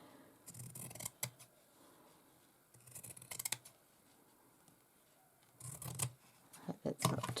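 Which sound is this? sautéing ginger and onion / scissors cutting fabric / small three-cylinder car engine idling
scissors cutting fabric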